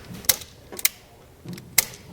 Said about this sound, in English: Strip back one end.